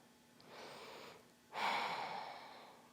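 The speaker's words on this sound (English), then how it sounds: "I'm panting from it." Heavy panting after a vinyasa yoga flow: two long, breathy exhales, the second louder and stronger, close to the mic with no talking.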